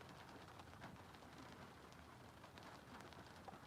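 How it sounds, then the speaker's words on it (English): Rain falls steadily on surfaces as a soft, even patter of raindrops, faint and continuous with no voices. "Maybe hearing the sounds of the raindrops"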